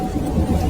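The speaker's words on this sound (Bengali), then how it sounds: "বাইরে প্রচন্ড বৃষ্টি শুরু হয়েছে" Heavy rain pours down with a low rumble of thunder in a Bengali ghost cartoon, a loud, dense, continuous roar with no voices.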